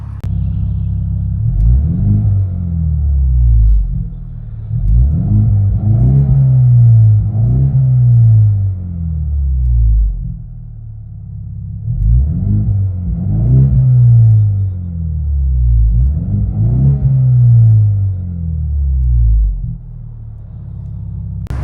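A 2025 Ford Mustang EcoBoost with an MBRP cat-back exhaust heard from inside the cabin, loud deep exhaust rumble rising through repeated revs and accelerations in several pulls, alone without talk.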